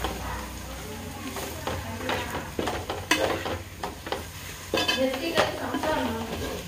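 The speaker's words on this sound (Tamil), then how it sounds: "மசாலாவை போட்டே கிண்டும் போது நல்லா வாசனை வருது." Masala powder is stirred in a cooking pan while fish curry is made, with scraping and clinking of a spoon against metal in irregular strokes over a soft sizzle, close by, and a voice talking at times.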